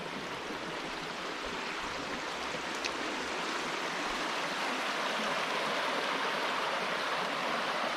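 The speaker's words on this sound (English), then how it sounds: "Nice little feeder creek." A small feeder creek flows with a continuous, even rush of water, broadband and unbroken, close by with no voices.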